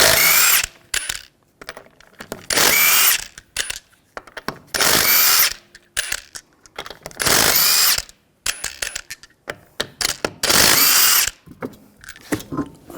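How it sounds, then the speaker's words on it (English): A power tool with a 19mm socket spins off the lug nuts of a 2003-2008 Subaru Forester in about six loud, close bursts, each broken by brief pauses and ratcheting clicks. "use a 19mm socket, take the lug nuts off."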